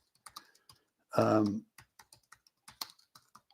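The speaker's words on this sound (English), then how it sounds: "I'm going to type it here into the chat." Quick bursts of typing on a computer keyboard as a book title is entered into a chat, clustered taps with short gaps and a brief spoken sound partway through.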